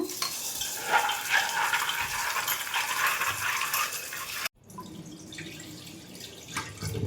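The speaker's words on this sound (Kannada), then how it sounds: "ಸರಿ ವಾಶ್ ಮಾಡಿ ತಗೊಳ್ಳೋಣ ಬಾದಾಮಿನ" About 200 grams of almonds are rinsed in water, rattling and swishing loudly and close by. After a brief cut, a softer stretch of stirring and clinking follows, with no one speaking.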